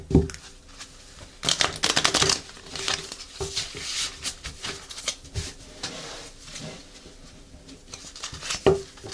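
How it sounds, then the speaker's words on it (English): Tarot cards shuffled close up, a rapid papery riffle and flutter in repeated bursts with soft taps between, no talking. "This is so better to shuffle. It's almost like I can shuffle the whole cardstock now."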